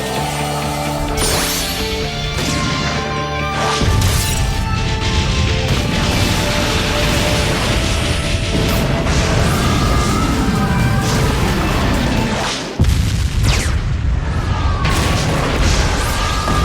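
Loud, dense crashing and booming bursts from a bomb attack in Naruto Ultimate Ninja Storm layer over game music, with a sharp drop and a fresh blast near the end.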